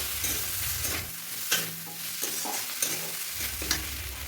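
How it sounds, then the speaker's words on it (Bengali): Fried moringa drumsticks and potatoes stirred into a sizzling spice paste: a steady close frying hiss with repeated scraping strokes of the spatula on the pan, no voices. "এবার ভালো করে ওটা মিশিয়ে নিয়ে মশলার সঙ্গে"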